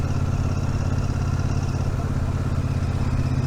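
A Royal Enfield Super Meteor 650 motorcycle engine pulls smoothly at slow riding speed, a loud, steady low throb with even firing pulses and a faint mechanical clatter, close up and constant throughout.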